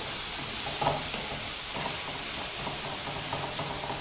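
Minced beef for bolognese sizzling hard in a pan over high heat, a steady dense crackle and hiss with faint stirring scrapes, close up and alone.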